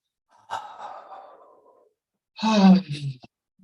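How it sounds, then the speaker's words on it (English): A slow, deep exhale during a short relaxation workout, sighing out with a breathy, voiced quality; a soft, trailing breath is followed by a louder, fuller voiced sigh, close and alone. "Nice deep breaths, letting go with that out breath"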